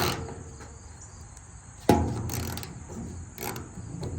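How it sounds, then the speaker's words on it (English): A hand ratchet turned clockwise while removing hardware from a garden bed gives a few sharp mechanical clicks and clacks, close and fairly quiet, with no talking. "you need a ratchet, and you're supposed to go clockwise,"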